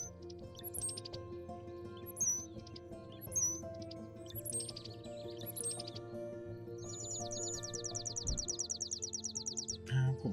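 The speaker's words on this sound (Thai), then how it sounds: "ฟังเสียงนกยาวเลย" Repeated bird chirps and trills from the video game Wingspan over a steady background of music, fairly quiet, with a fast chattering call toward the end.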